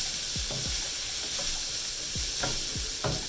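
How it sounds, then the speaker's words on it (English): Cajun chicken pasta ingredients and sauce sizzle in a single pot while being tossed, a constant frying hiss broken by several scraping stirs of a utensil against the pot. "Toss everything up really well."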